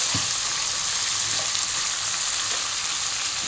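Carrots, peas and soya chunks with salt sizzling and frying in a pan for vegetable biryani, a steady, close, crackling hiss with a few soft stirring knocks, no talking.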